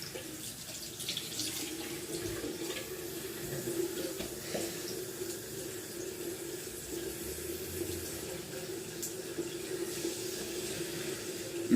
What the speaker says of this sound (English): you just get your hands wet with some water and then just run your fingers through your hair.